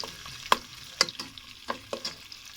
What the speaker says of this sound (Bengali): গোল্ডেন ব্রাউন করে ভেজে নেব